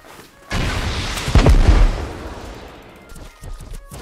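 AK rifle fire in the Rust video game, a couple of heavy, booming reports close by with a long rumbling tail fading into scattered distant shots.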